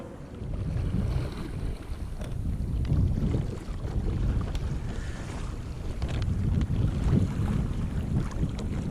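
A Hobie Adventure kayak sails over the water near Pensacola, a continuous low rush of hull wash and wind buffeting the microphone, steady and fairly loud with no talk.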